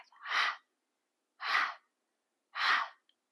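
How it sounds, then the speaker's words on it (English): Forceful pumped exhales during a yoga breathing exercise, three strong breaths pushed out through the nose and mouth at an even pace, about one per second. Each is a close, breathy rush with silence between them. "start to pump with that exhale breath"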